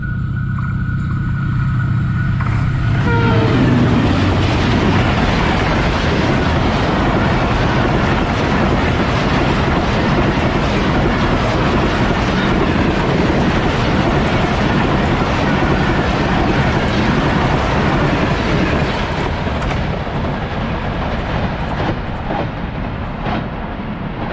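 A Green Line Express train hauled by a ZC30 locomotive crossing a bridge in the Run Pathani mountains of Sindh at high speed; a loud, continuous rumbling roar with clattering wheels that fills the whole stretch and eases slightly toward the end.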